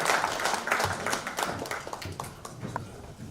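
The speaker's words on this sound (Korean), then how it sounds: "박수 나오시죠." Applause from an audience at a Korean political party's founding-committee event as an award is presented, a dense, steady patter of many hands that carries on throughout.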